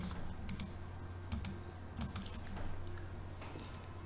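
Keys tap on a computer keyboard in quick, uneven bursts of clicks, close and fairly soft, with a steady low hum running underneath.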